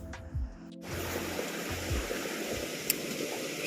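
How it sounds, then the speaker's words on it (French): After a brief muffled noise, a small mountain stream beside a wooden chalet rushes and burbles continuously in winter, a steady close hiss of flowing water. "Je tenais à vous partager le bruit de l'eau qui coule"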